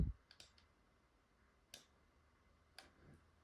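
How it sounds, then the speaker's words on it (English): A computer mouse clicks a few times, sharp and isolated, in an otherwise quiet room while a dental design model is moved in 3Shape software. "Right mouse click to hold the model to move."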